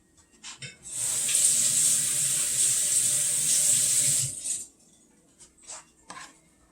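Vegetables such as cabbage and broccoli washed under a running kitchen tap, a steady hiss of flowing water lasting several seconds, bracketed by light clinks and handling knocks in the sink before and after.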